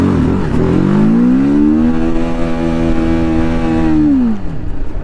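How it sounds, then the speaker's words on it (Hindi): TVS Apache RTR 310 motorcycle accelerating in first gear in urban mode, a loud close engine note climbing steadily in pitch, holding a high rev, then dropping off abruptly at the end. "एक बार चेक करते हैं कि ज़रा अर्बन पर पहले गियर पे ये बाइक कितना जाती है।"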